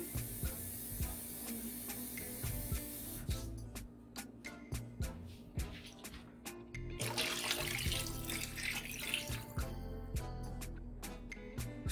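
Water runs and splashes into a cooking pan, a steady rushing pour that is interrupted by clatters and knocks of handling, fairly faint with no talk.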